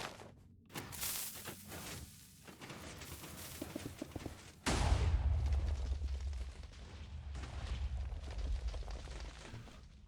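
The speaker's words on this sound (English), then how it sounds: "I'll show you how it shoots." Minecraft manual TNT cannon on an armored PVP fighting machine firing in the game, a sharp loud boom about midway followed by a heavy sustained low rumble, with earlier bursts of crackling blasts.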